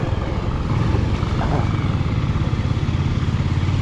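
A new scooter's engine runs with a steady low rumble on a slippery hill road, loud and continuous throughout, with no talk over it.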